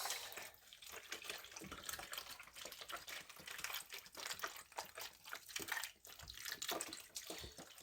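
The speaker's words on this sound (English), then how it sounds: "we're just gonna pour some beef broth in here, just like this." Beef broth pours into a pan of short ribs with a soft, steady splashing and trickling, faint and close, with no talking.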